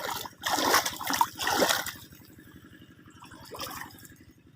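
Water poured over bitter gourd (ampalaya) plants in a garden, splashing and trickling in two strong bursts, then a fainter dribble over a steady low mechanical hum.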